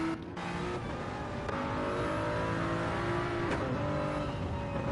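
A Gr3/Gr4 race car in Gran Turismo at the Sardegna circuit accelerates hard, its engine note climbing through gears in a steady, fairly faint drone with other cars audible behind it.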